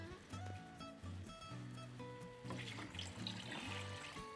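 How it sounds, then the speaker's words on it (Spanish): Water poured into a pot of chicken soup in a home kitchen, a faint trickling and splashing beneath musical tones. "Vamos a agregarle un poco más de sal y agua va a ser la necesaria."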